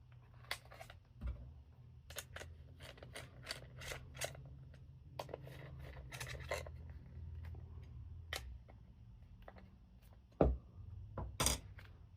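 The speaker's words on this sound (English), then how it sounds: "And we'll tighten these screws." Screws being tightened on the idler gear retainer of a swerve module, with a series of sharp small metallic clicks and ticks in irregular rhythm, close and quiet over a faint hum.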